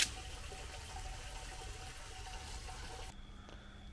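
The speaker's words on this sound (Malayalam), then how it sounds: "താഴത്തെ കുളത്തിലെ വെള്ളം മോട്ടർ വെച്ച് ഇങ്ങോട്ടടിക്കുന്നു" An electric motor pump sends water up from a lower pond into an upper one: a steady, fairly faint rush of flowing water that cuts off abruptly near the end.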